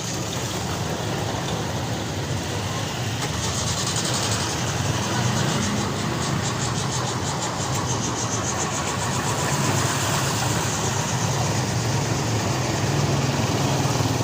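A stalled angkot minibus, soaked after driving through flood water on a Jakarta street, cranks its engine with a dense rattling churn. The sound is loud and constant, with no clear catch, and sits under broad outdoor traffic noise.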